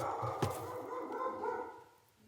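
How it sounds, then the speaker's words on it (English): A pet dog indoors gives one sharp bark near the start, then a low muffled murmur follows and fades out. "My dog barking."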